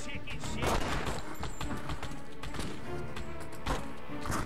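Rapid gunfire from two weapons at once in The Punisher on the original Xbox, dense bursts of shots that keep going without a break, mixed with game effects and a voice talking over them.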